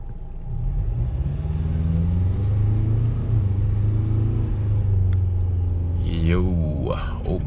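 A 2020 Ford Everest SUV with a 2.0L bi-turbo engine drives along in sport mode, giving a steady close engine rumble and road drone that rises at the end, with a voice speaking over it.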